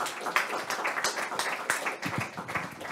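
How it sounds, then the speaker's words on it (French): An audience at a talk on agile and open-source transformation in industry claps steadily throughout, a dense burst of close, moderately loud clapping with no talking over it. "on va applaudir parce que c'était intéressant"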